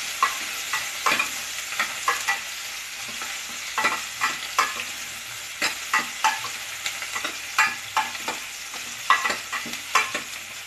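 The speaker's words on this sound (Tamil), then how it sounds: "பாருங்க, இப்படி வதங்கிருச்சு." Vegetables for a bottle gourd and cowpea gravy sauté in a pan, with a continuous sizzle broken by repeated scraping stirs of a spoon, close and without talk.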